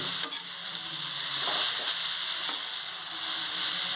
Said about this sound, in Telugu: గుమ్మడికాయ తురుముని దీంట్లో యాడ్ చేద్దామండి చేసుకుని